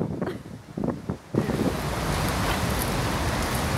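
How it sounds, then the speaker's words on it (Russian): A cold north wind blows outdoors through the Summer Garden in Saint Petersburg. After a brief, quieter moment, it rises into a loud, continuous rushing roar buffeting the microphone. "Сегодня северный ветер."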